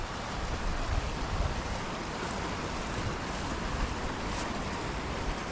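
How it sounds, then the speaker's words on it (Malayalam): Water rushing along a village stream beside a washed-out bank, a broad continuous roar at moderate level with faint wind buffeting the microphone. "ഇതിലേക്ക് വെള്ളം ഒഴുകി വരുന്നത് എനിക്ക് കണ്ടോ"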